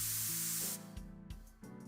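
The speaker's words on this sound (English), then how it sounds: "Don't worry, it's just some knockout gas." A single hiss of knockout gas sprays out, a broad airy burst that cuts off abruptly into quiet, with no talking.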